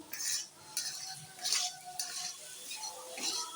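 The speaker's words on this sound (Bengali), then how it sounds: "এবার আমি মশলাটিকে ভালোভাবে কষে নেব" A spoon scrapes and stirs a spice paste of coriander powder, cumin powder, turmeric and salt in a pan. It gives quiet, intermittent strokes with a light sizzle, and no one talks.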